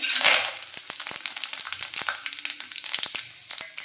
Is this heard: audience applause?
no